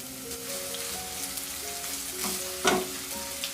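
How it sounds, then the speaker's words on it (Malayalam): Chopped onion fries in coconut oil in a pan, giving a close, steady sizzle with crackling pops and a brief stirring scrape, while a soft melodic tune plays underneath. "ഈ പാനിലേക്ക് തന്നെ ഇത്തിരി കൂടി വെളിച്ചെണ്ണ ഒഴിച്ച് സവാള ഒരു ചെറുത് അരിഞ്ഞു വച്ചിരിക്കുന്നത് ഇട്ട് കൊടുക്കാം."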